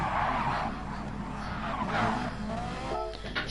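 A race car in the GT Sport video game brakes hard with a long, loud tire skid and squeal over engine noise, tapering off near the end.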